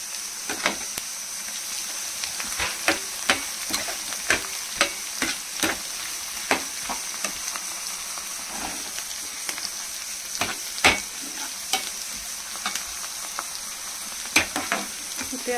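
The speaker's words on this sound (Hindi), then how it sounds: "देखिए ये हमारे प्याज हो रहे हैं।" Onions sizzle and fry steadily in a pan for mutton rogan josh, with a continuous bright hiss broken by repeated scraping clicks of a spoon stirring, close and without talk.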